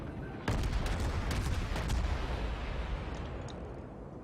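Warship guns fire in World of Warships, a sudden heavy boom that rolls into a long rumbling roar with a few crackling follow-up reports, loud and close with no talking.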